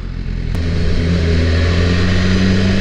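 A BMW S1000RR sport motorcycle engine runs hard and close, a loud, steady low drone with stacked harmonics that climbs gradually in pitch as it accelerates, with no voices.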